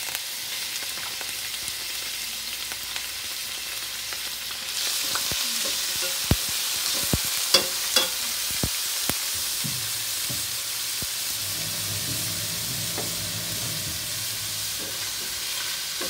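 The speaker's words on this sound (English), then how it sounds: "So now what I'm going to do is I'm going to add the meat" Already cooked meat hitting a hot stir fry pan with sauce, a continuous sizzle that rises partway through, broken by sharp spatula clacks and scrapes as it is tossed.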